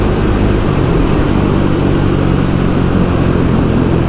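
A 2024 Triumph Speed 400 motorcycle engine pulling hard through an overtake, a loud continuous drone mixed with heavy wind rush throughout.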